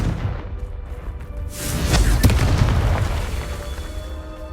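A Confringo fire spell explodes in the video game Hogwarts Legacy: one deep booming blast that swells and rumbles for a couple of seconds over continuous game ambience.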